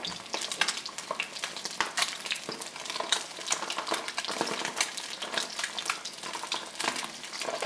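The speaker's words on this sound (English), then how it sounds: "Want to be able to sizzle that skin real good, make it nice and crispy." Bronzini fish skin sizzles and crackles steadily in a hot pan, a dense, busy frying hiss with occasional stirring clatter, close and continuous with no talk.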